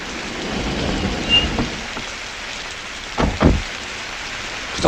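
Steady rain falls in Pyongyang, a dense close hiss, broken by a few low thunder rumbles and thuds.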